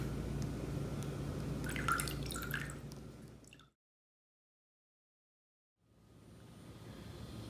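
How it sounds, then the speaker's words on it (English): Ice water slowly poured over a sugar cube into an 1880s-style cocktail glass gives soft dripping and trickling for a few seconds, then silence, before faint background noise returns. "And you're going to slowly pour over ice water."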